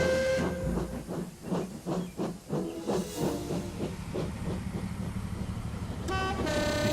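A simulated steam locomotive in Trainz puffing away, a run of rhythmic chuffs that slow and soften into a steady hiss, then a sharp steam whistle blast near the end.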